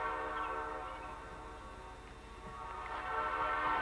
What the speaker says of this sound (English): I guess you hear the train.